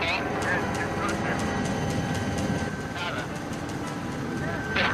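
A small plane's engine drones steadily as it flies in to land on a jungle airstrip, a loud continuous hum heard from inside the aircraft with a voice speaking over it.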